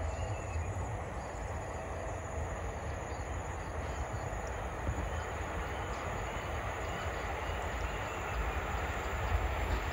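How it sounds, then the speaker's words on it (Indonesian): An electric commuter train pulls in and stops at Delanggu station, a steady, moderately distant rolling rumble with faint wheel noise continuing throughout and no voices. "ada kereta listrik dari stasiun Ceper berhenti di stasiun Delanggu"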